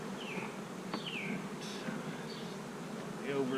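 Bees buzz around a beehive in a faint, continuous drone close by, with a few brief whistling chirps and rustles mixed in and no voices.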